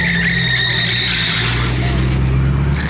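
A wide, muscular Ford GT supercar rolls past on a second pass, its engine a steady loud rumble with faint tire noise throughout, fairly close and continuous.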